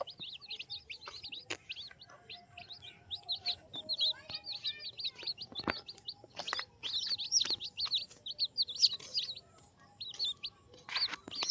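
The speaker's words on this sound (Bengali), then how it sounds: "13টা বাচ্চা উঠেছে, চিক চিক চিক চিক করতেছে।" Thirteen newly hatched baby chicks peep close by in quick, thin, high-pitched chirps that come in irregular bursts over a quiet background.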